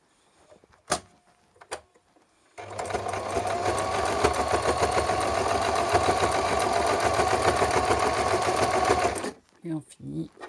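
A sewing machine runs a zigzag stitch along the edge of a fabric face mask, a fast, even mechanical whirr that lasts several seconds, with brief clicks and voice sounds just before and after it.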